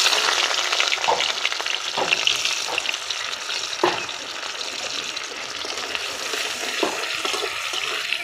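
Cumin and onion frying in hot oil for a rui fish curry with potato and eggplant: a steady, fairly loud sizzle with occasional spatter pops and a few scraping stirs, no talking.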